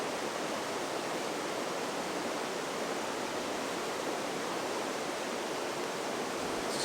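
A river running around the foot of a small group of trees, heard as a steady, even rush of water that holds unchanged throughout with no voices.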